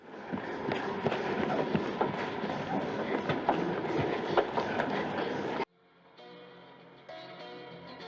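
Train in a Martin Scorsese film scene, a rumbling clatter of wheels on rails with rhythmic clicks that cuts off abruptly, followed by quieter tonal sound.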